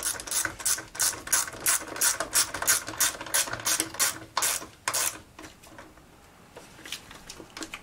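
A ratchet with a 3/8 socket turns bolts on a Craftsman Incredi-Pull, producing quick, loud, close clicking strokes in a steady rhythm that slows and fades into quieter rubbing toward the end.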